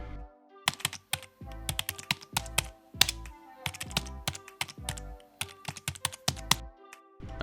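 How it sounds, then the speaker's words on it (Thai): Fast typing on a computer keyboard, close and crisp, with rapid clusters of sharp key clicks broken by brief pauses, heard alone with no voices. "คีย์บอร์ดแล้วก็พิมพ์ไปนะครับ"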